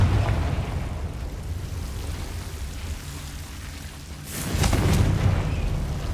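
A Confringo spell explodes in Hogwarts Legacy, a deep booming blast with a rumbling tail rising over a low background rumble near the end.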